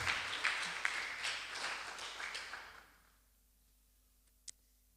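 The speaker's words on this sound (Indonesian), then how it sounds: "Kasih tepuk tangan yang terbaik untuk Tuhan Yesus." A live audience at a church leadership seminar in Indonesia applauds, giving a dense burst of clapping with a few sharper claps that quickly fades out, leaving near silence and one isolated tap.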